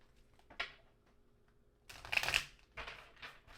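A brand-new, never-used tarot card deck being shuffled, with a short stiff riffle early on and a longer, louder burst of card flutter in the middle, followed by lighter taps and rustles, all fairly quiet and close.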